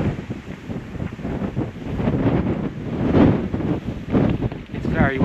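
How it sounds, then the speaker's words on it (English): Strong wind buffets the microphone on an exposed coastal hiking trail along the Jurassic Coast in Dorset, a steady loud rushing roar with gusts swelling throughout. "Very windy."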